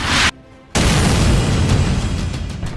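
An unguided dumb bomb dropped by an F/A-18 Hornet explodes in a loud, close roaring blast that cuts out briefly and then rumbles on as a sustained, broad wash of noise.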